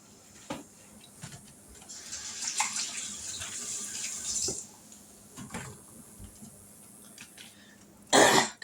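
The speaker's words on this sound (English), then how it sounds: "let me wash my hands off" Tap water runs steadily for a couple of seconds as hands are rinsed in a home kitchen, framed by a few scattered clicks and knocks and ending with a sharp clatter.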